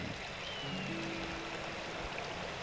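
A crystal clear mountain creek in a Rocky Mountain valley of the Wind River Range gives a soft, steady rush of flowing water, faint and continuous, with no voices.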